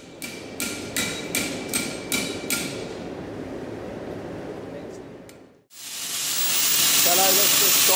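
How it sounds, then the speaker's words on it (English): Hot metal candlestick ends are hammered on an anvil cone at a forge: about eight ringing metallic taps in a steady rhythm, then a pause and a rising rush of hissing air, with a voice briefly under it. "heat it up and take the anvil, put it on the cone, tap the end down, flute the end"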